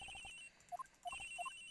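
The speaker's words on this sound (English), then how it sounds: "The ring is coming from somewhere around here." A telephone rings in the video game Ace Attorney Investigations, a faint, bright electronic trill repeating in short bursts with brief gaps, heard alone.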